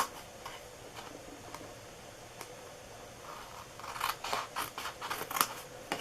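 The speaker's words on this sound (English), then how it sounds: "I just like to cut a little tiny sliver so it folds a little bit better" Scissors snip tiny slivers off paper flaps for a butterfly window box, giving faint, sparse ticks at first and then a quick close run of crisp cuts.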